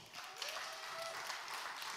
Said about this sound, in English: And May Kay, will you give her a big round of applause?